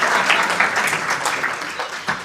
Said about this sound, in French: Un applaudissement pour Colin, le régisseur.